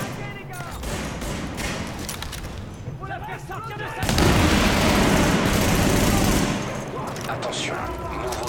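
Grenade thrown in the video game The Division: a heavy blast lands midway through steady, dense gunfire and battle noise, rumbling for a couple of seconds before the firefight settles back, with someone talking over the game throughout.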